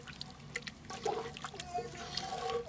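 Homemade vegetable stock, about 750 ml, pouring into a Dutch oven with browning pork, a soft, steady trickle and splash lasting a few seconds at moderate level.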